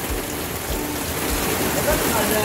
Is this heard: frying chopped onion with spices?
no